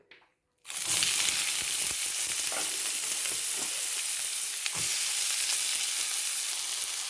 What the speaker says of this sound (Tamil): இப்போ நான் வெங்காயம் போடுவோம்